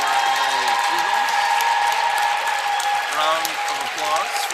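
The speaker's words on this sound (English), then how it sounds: "Round of applause for the two seniors, Stephen Kamara and Quinn Rendy." Applause fills a gym at a varsity high school basketball game, steady sustained clapping from the crowd for several seconds with a buzzer-like tone and faint voices underneath.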